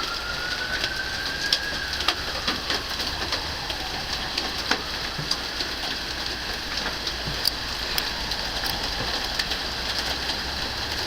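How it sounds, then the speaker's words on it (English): Heavy rain pouring down during a massive hailstorm, a steady dense hiss of water with scattered sharp impact clicks and a faint whistling tone, continuous and fairly loud with no talk. "Look at the downpour, the rain, the everything in this massive storm of doom."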